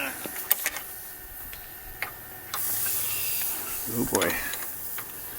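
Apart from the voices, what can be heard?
induction heater sizzling on antique road grader part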